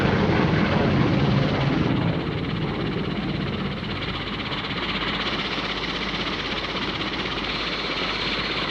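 A helicopter roars loudly and steadily nearby, its rotor and engine noise a constant dense rumble throughout with no talking.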